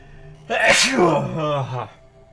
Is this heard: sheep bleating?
no